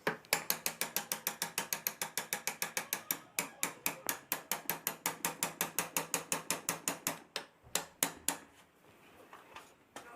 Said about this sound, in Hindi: तो एकदम सेंटर में करके हमें ठोक देना है, जिससे कि ये बैठ जाएगा।